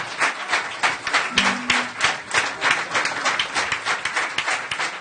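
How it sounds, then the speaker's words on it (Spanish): Congregation clapping steadily during a worship service, a dense, sustained patter of many hands filling the room with a brief sung or spoken tone briefly audible underneath. "Sabe que cada vez que le aplaudimos le estamos honrando a Él"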